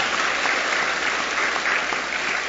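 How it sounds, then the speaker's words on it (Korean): Steady, dense applause from a church congregation at a Sunday morning service, sustained and even throughout with no voices over it. "우리 하나님께 박수로 감사하겠습니다"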